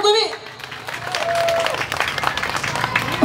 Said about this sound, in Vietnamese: Hãy cùng dành cho buổi lễ khai trương của chúng ta một tràng pháo tay lớn hơn nữa